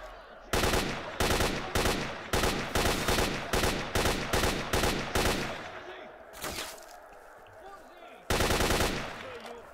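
Bursts of heavy-ammunition gunfire in the video game S.T.A.L.K.E.R. Shadow of Chernobyl: a loud, rapid string of close shots with short gaps, a pause with lingering rumble, then another burst near the end.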